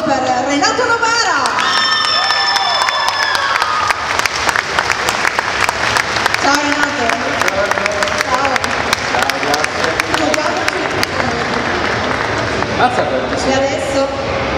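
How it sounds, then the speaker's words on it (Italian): At the Como Fun 2022 event, a large crowd gives guest Renato Novara a big, loud, sustained round of applause, with cheers, whoops and children shouting over the dense clapping. "un grande applauso per Renato Novara"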